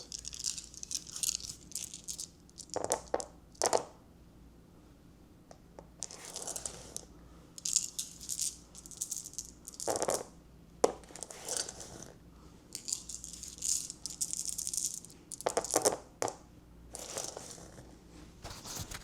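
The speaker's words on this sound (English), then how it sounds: "let's just take a minute and listen to the sound of the dice." Small dice clattering and rattling in short bursts, repeated throws tumbling across a hard surface, close and fairly quiet with pauses between rolls.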